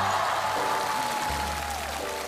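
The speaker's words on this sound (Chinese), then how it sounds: "掌声欢迎翟天灵。" A television variety show audience claps to welcome guest Zhai Tianling, a steady dense patter of applause that holds throughout and eases slightly toward the end, with faint voices underneath.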